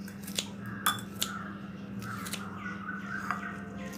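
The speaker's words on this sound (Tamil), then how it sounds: "இப்படி ஒரு கத்திரிக்கோல் வச்சுட்டு லேஸாக கட் பண்ணி எடுத்துக்கோங்க" Scissors snipping washed mint and coriander leaves, several sharp, separate clicks spaced irregularly over a quiet kitchen hum.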